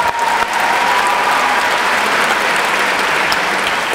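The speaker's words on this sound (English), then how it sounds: "So a huge round of applause for Portland 5." A large crowd at a youth poetry slam claps loudly and continuously, a thick, steady roar of applause with no pauses.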